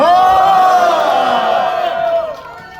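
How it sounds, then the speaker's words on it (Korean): A crowd at a student-led rally against impeachment roars a long, loud cheer, a massed "wah" shout. It holds steady for about two seconds, then tails off. "잘은 하고 와 하고 환호성 한번 질러주세요"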